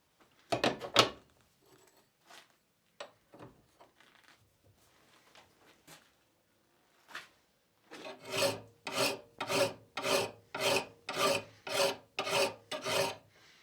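A 10-inch half-round second cut file rasps along a metal edge, a few scattered strokes at first, then a steady run of about a dozen rhythmic back-and-forth strokes, close and clear with no talking.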